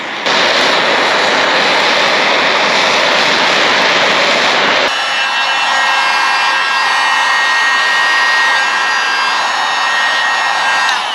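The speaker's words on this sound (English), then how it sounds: "Now the reason I am still using the heat gun is so it somewhat flashes." A heat gun blasts a loud, steady roaring airflow onto a freshly painted part of a vintage Porsche 911 Targa. The tone shifts abruptly partway through to a thinner whine with a more tonal edge.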